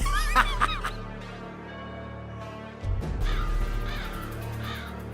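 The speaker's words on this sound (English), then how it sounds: "Got the crow in the background." Crow caws sound in the background of a Halloween-styled music loop with piano and a deep bass drone, the calls coming as a few bright repeated cries early on and again later over the music.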